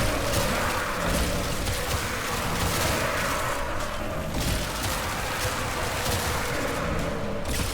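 Dense, continuous gunfire from a level-cap mission in a shooter game, rapid overlapping shots and mechanical clatter forming an unbroken loud barrage the whole time.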